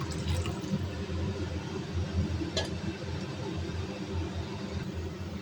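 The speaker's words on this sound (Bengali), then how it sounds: "এই মুহূর্তে এই জল দেবো, একটু বেশি করে একটু জল দিতে হবে, কারণ কোফতাগুলোতে জল টানবে।" Water is poured into a simmering kofta curry, giving a steady liquid gush and splashing that runs the whole time at moderate level, close by.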